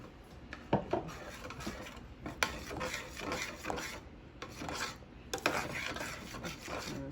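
A spoon scrapes and rubs around a pot as milk is stirred into Jamaican cornmeal porridge, a steady rasping swirl with brief pauses and a few sharper knocks, heard close and alone.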